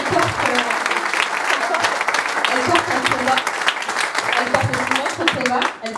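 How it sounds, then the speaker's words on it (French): A crowd at an anti-racism and anti-sexism rally applauds for a speaker, dense sustained clapping throughout, loud and close, with a brief dip near the end. "je pense qu'on peut l'applaudir encore une fois"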